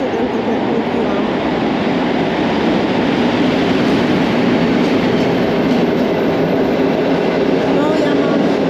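A TLK passenger train hauled by an EP07 electric locomotive rumbles past close by, a dense continuous roar of wheels and cars with faint rhythmic clatter running unbroken throughout.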